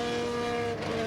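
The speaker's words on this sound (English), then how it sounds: "that sound is frustration, fellas, as he revs the Honda" Honda engine of an IndyCar at the 2004 Nashville race, revved hard in the pit lane: a high, sustained tonal whine with strong harmonics, steady and close, briefly dipping before climbing again.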